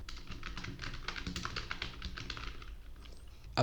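Close, quick typing on a computer keyboard, a fast run of light key taps continuing steadily with no talk.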